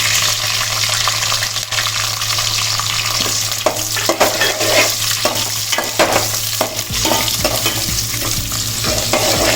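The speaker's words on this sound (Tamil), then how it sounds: "வெங்காயம் பச்சை மிளகா எல்லாம் போட்டு நல்லா பொரிய வச்சுருக்குறோம்" Sliced onion, green chilli, curry leaves, fenugreek and mustard seeds fry in oil, a dense close sizzle with repeated clattering stirs of a spoon against the pan, no voices over it.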